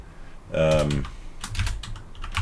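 Rapid typing on a computer keyboard during coding, a flurry of close, crisp key clicks with a brief voiced sound at the start.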